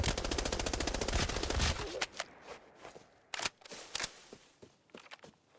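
A video game gun empties a whole magazine in a rapid, unbroken burst of automatic fire for almost two seconds, followed by scattered single clicks and thuds in a quieter stretch.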